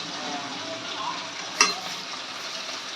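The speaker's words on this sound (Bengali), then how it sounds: "ও কলমি শাক ভাজছিলাম না" Water spinach (kalmi greens) frying in a pan: a steady, close sizzling hiss that runs throughout, broken once midway by a short metallic clink of a utensil.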